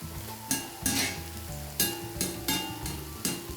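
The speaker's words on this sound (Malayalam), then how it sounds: "ഈ സോയ ഇവിടെ ഫ്രൈ ആയിട്ടുണ്ട്." Soya chunks frying in hot oil while being stirred, a steady close sizzle broken by sharp scraping strokes roughly every half second to second.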